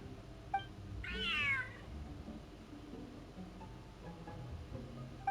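A cat meows once in the video game Genshin Impact, a clear rising-and-falling cry lasting about half a second, over soft game background music and ambient tones.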